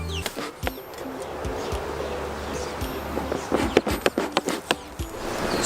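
Honey bees buzz around a hive on a farm, a dense steady hum of many insects close by with scattered soft taps and occasional bird calls.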